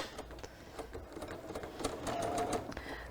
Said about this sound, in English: I'm actually going to go ahead and sew the top and the bottom row of this project.